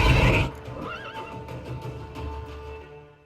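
A horse from The Witcher 3 lets out a loud whinny up close, a short rising-and-falling neigh followed by snorting breaths and faint hoof movement.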